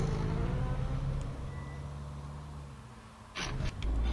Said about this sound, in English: I was checking if it makes a beeping noise when you're reversing